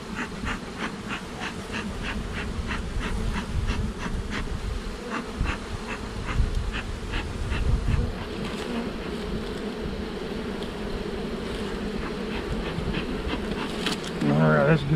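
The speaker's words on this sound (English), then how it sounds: "Try to smoke those bees back in there." Dense, steady buzzing of many honeybees around a hive being smoked, close and continuous, with occasional rhythmic puffing of a bee smoker and a faint voice at times.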